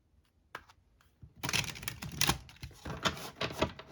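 Cards from a borderless Rider-Waite tarot deck are pulled and shuffled, a quick run of close, crisp riffling and flicking after a couple of soft taps.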